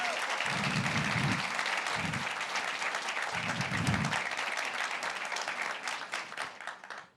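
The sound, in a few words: audience applause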